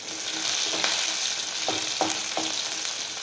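Shallots sauté in hot oil in a pan with dried red chillies for a Tamil ridge gourd and toor dal kootu, a steady close sizzle broken by a few soft scrapes of a spatula, with no voices.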